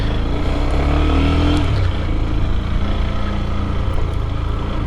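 Amazon X-Pro motorbike, a KPM 200 or Hawk 250 DLX street bike, ridden at a steady, loud close-up engine drone with a slight pitch change partway through and no voices.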